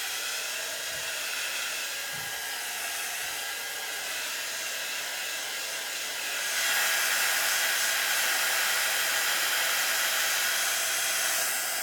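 A hair dryer blows steadily to dry paint on a paper bag art page, a close, continuous airy roar that steps up to a louder, higher setting partway through and keeps running alone.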